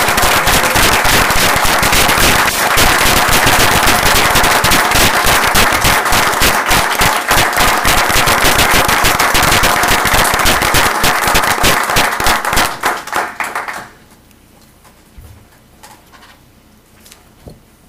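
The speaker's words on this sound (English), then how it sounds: "Would you give a round of applause to Vice Chancellor" A board meeting audience breaks into loud, sustained applause for a vice chancellor, dense rapid clapping close and strong for about thirteen seconds before it cuts off, leaving a few scattered faint sounds.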